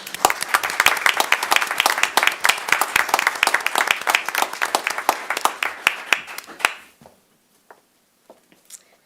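Applause at a Paducah city commission meeting: many hands clapping briskly and steadily for about six seconds, fairly close, then fading to a few scattered claps and near silence.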